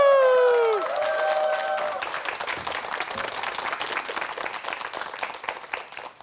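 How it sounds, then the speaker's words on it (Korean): A Korean lecture audience breaks into applause to welcome a rehabilitation trainer. A tonal musical sound fades in the first moments, then a broad, steady round of clapping fills the room. "큰 박수 부탁합니다."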